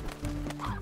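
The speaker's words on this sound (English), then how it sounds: "I'm also gonna be grabbing a bunch of chickens here." Clucking chickens in the Slime Rancher video game, a short burst of bird-like calls over a steady hum, fairly close and moderately loud, with no talking.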